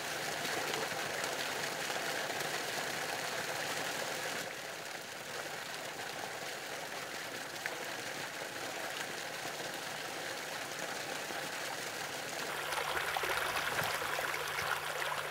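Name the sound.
water pumped from a pumping station flowing along a ditch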